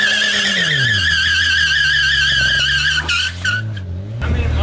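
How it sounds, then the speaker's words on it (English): BMW 135i doing a small burnout, the engine holding a steady high drone with a rising squealing tone from the tires that stays loud and close throughout, then wavers and dips near the end. "So this car does not like to do burnouts."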